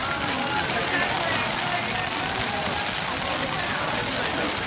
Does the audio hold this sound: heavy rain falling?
yes